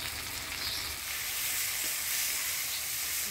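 Ground spice paste of coriander, cumin, ginger and chili, with garlic, turmeric and salt, fries in a pan with tomato, giving a loud, steady, close sizzle throughout with no talking.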